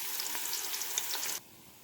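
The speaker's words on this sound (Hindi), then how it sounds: "अब इसके अंदर मैं प्याज डाल के इसको सुर्ख करके और इसको निकाल लूँगी प्लेट में अलग से।" Onions frying in hot oil, a steady bright sizzle with faint stirring crackles, cutting off abruptly near the end.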